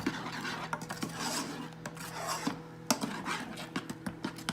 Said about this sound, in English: you're just gonna make sure you keep stirring it